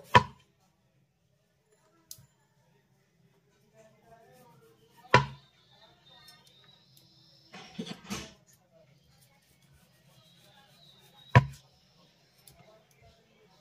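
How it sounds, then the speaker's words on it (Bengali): A knife chops through a potato on a cutting board, trimming off its sides in a few sharp, separate cuts with quiet pauses between them. "আর এবার আমি এই আলুটার এই যে চতুর্দিক দিয়ে এইভাবে একটু অল্প করে কেটে বাদ দিয়ে দেব"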